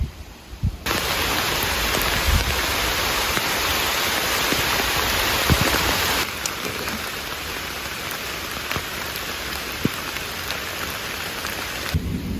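Steady rain falling on a mountain trail along the Appalachian Trail near Bluff Mountain, a dense, continuous hiss that is loud at first and then eases slightly, with a few scattered sharper drops and no voices.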